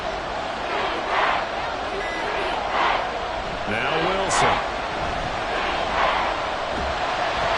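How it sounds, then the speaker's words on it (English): Stadium crowd noise from a football video game, a Broncos at Texans matchup, rises as a constant loud roar while a commentator talks over it. "Here comes a big one as this crowd gets up making some noise."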